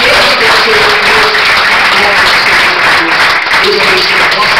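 Church congregation applauding loudly and continuously at the close of a worship service, a dense sustained wash of many hands clapping together, close and full throughout.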